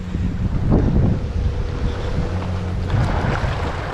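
Strong wind buffets the microphone at a clear-water fishing spot, a steady loud rushing roar with low gusty rumble throughout and no talking.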